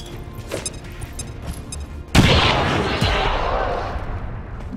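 A grenade explosion in the tactical game Long War 2, a sudden loud boom halfway through that rumbles and decays over a couple of seconds, with quieter game sounds and voices before it.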